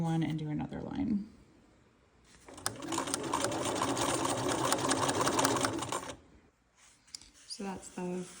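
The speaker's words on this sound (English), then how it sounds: "I'm just gonna go all the way along here, all the way around" A domestic sewing machine runs a steady line of stitching along the presser foot edge while sewing a Simplicity pattern, a continuous mechanical whir lasting a few seconds between bits of nearby talk.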